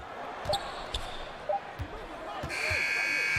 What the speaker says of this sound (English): Final buzzer sounds, and that'll do it.